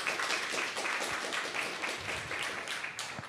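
Indoor audience applause for a visiting professor at a Tsinghua alumni gathering in Hong Kong, a fairly soft, even patter of clapping sustained through the moment.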